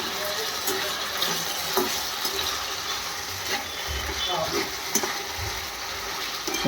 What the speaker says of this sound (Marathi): त्यासाठी आम्ही बटाटा सुंदर असा तेलात परतून घेणार आहोत लाल होईपर्यंत